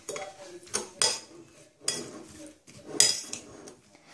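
Strawberries with sugar and cream being mixed in a red bowl, uneven bursts of spoon clinking and scraping against the bowl with short pauses between strokes, close and clear, no talking.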